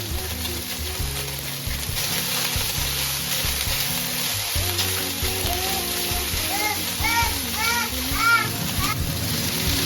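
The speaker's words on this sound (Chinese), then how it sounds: "放入蒜头炒香， 香菇炒香" Garlic and shiitake mushrooms are stir-fried in a pan for a dough-drop noodle soup, giving a steady sizzle and occasional spatter beneath continuous talk from an adult and children.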